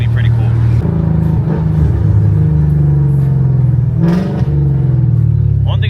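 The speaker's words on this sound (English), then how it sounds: "since it's not straight pipe, the exhaust doesn't sound like it's actually in the car. But after a certain RPM, it just screams." The exhaust of a Chevrolet Corvette C8 Z06 rumbles and rises in pitch as the engine revs, loud and close, with a person talking over it.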